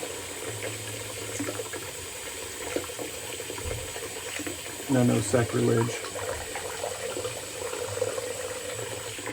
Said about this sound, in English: I'm just going to get a little water on it and then shake it down this way